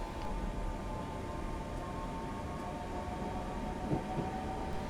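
A Class 319 electric train pulls away from Bedford in Train Simulator 2015, a quiet steady rumble of wheels and traction hum with a faint rising whine, no voices.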